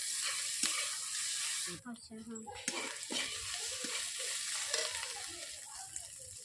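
Ginger-garlic paste frying in a pan while being stirred: a soft sizzle with intermittent scraping strokes, fainter after the first couple of seconds, with some speech-like sounds mixed in.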